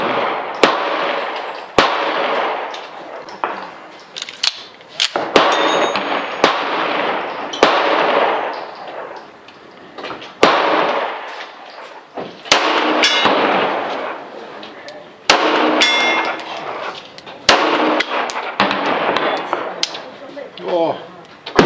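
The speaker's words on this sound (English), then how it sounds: "I'm going to try and shoot 100 yards at the bore and possibly the silhouette behind it at about 100." 1911 pistol shots fired at a 100-yard target on an outdoor range, sharp loud cracks spaced a second or two apart, each ringing out briefly, with someone talking between them.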